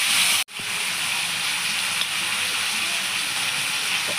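Eggplant and drumstick pieces sauté in a pan, giving a loud, steady sizzle and hiss close up that breaks off for a split second and then carries on evenly.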